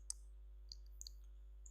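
Computer mouse clicks during spreadsheet work, a few sharp, faint, separate clicks at close range over a quiet electrical hum.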